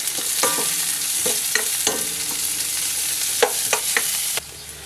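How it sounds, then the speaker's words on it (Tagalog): Leftover roasted pig skin and meat with garlic, ginger and onion sizzle steadily in a pan while a utensil scrapes and clinks against it in several stirring strokes, and the sizzle drops quieter at the end. "Now, bigyan natin siya ng isang magandang halo."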